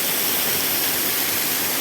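Steady, dense roar of a waterfall heard close up, a continuous broadband rush with no voices over it.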